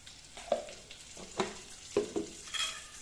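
Curry leaves sizzle in a pan of garlic chutney while a spoon scrapes and stirs in several distinct strokes over a soft, quiet frying hiss.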